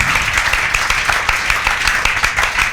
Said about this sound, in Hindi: तालियां बजनी चाहिए भाई